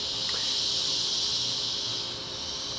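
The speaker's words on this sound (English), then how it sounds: "Fucking cicadas." Cicadas drone outdoors in a steady, dense high-pitched buzz that holds at an even level throughout, with no voices over it.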